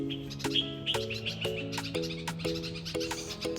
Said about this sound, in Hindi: मेरे घर में ये जो नीम का पेड़ है इस पर कैसे चिड़िया चहचहा रही हैं।